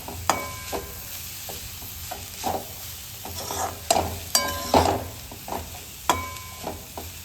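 A spoon scrapes and stirs cluster bean (gavar) curry with coriander in a pan, making repeated close clacks and scrapes over a soft background sizzle.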